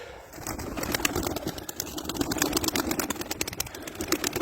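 White pigeons in a loft coo softly amid a busy background of flapping, shuffling and faint traffic hum, with no one speaking.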